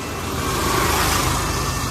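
A tricycle passes close by on a street, its small engine giving a steady, loud drone with a brief swell of revving in the middle and road noise throughout.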